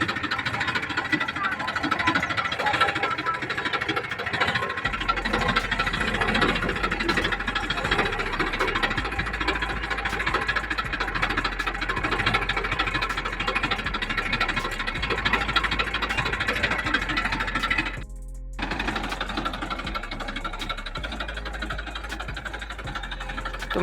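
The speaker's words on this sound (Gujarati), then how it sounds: "હું પણ હવે ટ્રેક્ટરમાં બેસી ગયો છું." A tractor engine runs steadily while plowing a peanut field, a loud, close, continuous rumbling drone with mechanical rattle that dips briefly before resuming.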